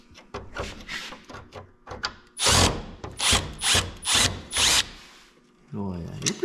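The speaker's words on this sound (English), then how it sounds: "you're pretty good with the drill" Loud bursts of a power drill removing hood screws from a Jeep XJ, several short whirring runs in quick succession, close by, with a few clicks and a brief voice at the end.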